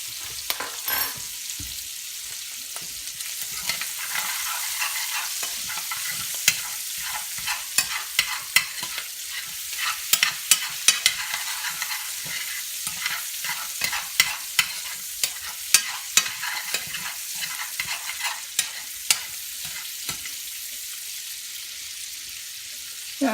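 Meat browning in oil in a frying pan for gravy, a steady close sizzle with frequent small pops and crackles running throughout.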